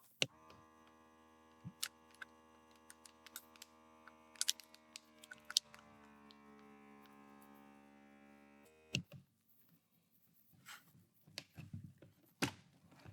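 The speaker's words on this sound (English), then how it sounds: "So we'll slide this into place, clamp it down, and vacuum and seal." A vacuum sealer's steady electric motor hums quietly for several seconds with faint clicks while sealing a bag, then stops and is followed by scattered handling noises.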